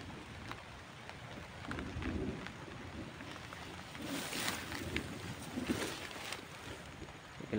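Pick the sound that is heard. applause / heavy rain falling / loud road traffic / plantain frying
heavy rain falling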